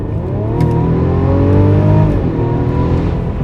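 A 2021 Mercedes-Benz E350 4Matic AMG Line, running on regular fuel, accelerates hard in Sport Plus mode, its engine note climbing smoothly and loudly, heard up close with no talk.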